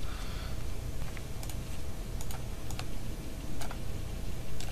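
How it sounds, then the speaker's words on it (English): Typing on a computer keyboard, soft scattered key clicks in short irregular bursts over a constant background hum, close but fairly quiet, no talking. "And we can type something in."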